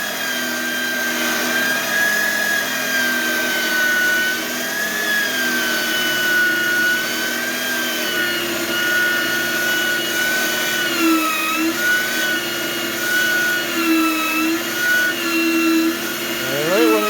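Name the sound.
Oster pipe threader cutting threads on 1-1/2 inch steel pipe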